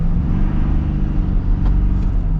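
A 2025 Ford F-350 Platinum pickup truck roars loudly and steadily as it accelerates hard while struggling for traction, with a dense low engine rumble throughout.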